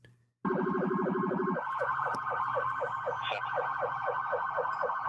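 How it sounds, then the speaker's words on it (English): Police car sirens run code 3 near a crash site by a burning recycling facility, loud and close: a rapid yelp pattern briefly overlaps a slower repeating wail, with no talk. "The police have their sirens, like code 3."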